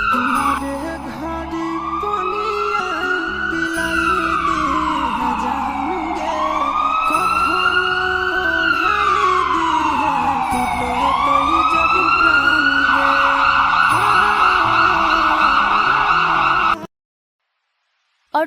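An ambulance siren in a Hindi cartoon wails, rising and falling in long repeating sweeps, loud and steady, with traffic rumble beneath, then stops abruptly.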